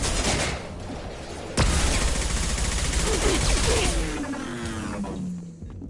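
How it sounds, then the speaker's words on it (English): Heavy gunfire in the video game Mass Effect 2 rattles as a dense, continuous barrage, with a loud sharp burst near the start and tonal sweeps of effects and whines layered in toward the end. "Taking heavy fire."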